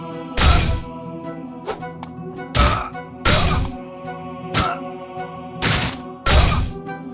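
Heavy melee strikes from the Alaloth: Champions of the Four Kingdoms fantasy RPG land as loud, sharp thwacks with crunching impact, six or seven blows spaced irregularly over several seconds, with quieter metallic clinks between them.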